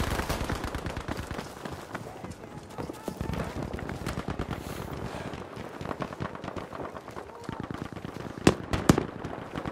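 Rapid bursts of gunfire in a Battlefield 5 battle on the Lofoten Islands, dense overlapping shots and automatic fire throughout, with a couple of louder, sharper reports near the end.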